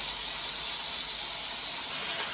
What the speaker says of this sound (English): really good sear on that chicken. It's going to be nice and crispy and brown.